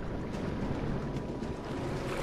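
A character swims through water in the video game Far Cry Primal, with a steady, soft wash of splashing and sloshing water that continues throughout.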